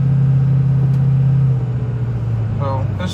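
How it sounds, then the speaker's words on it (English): Steady low rumble of a car rolling on Michelin LTX tires over a paved road, a constant hum of tire and road noise heard from inside the cabin that softens slightly partway through, with a faint tonal whine near the end. "So this 40, not hardly any tire noise at all. You get a little bit, but not much."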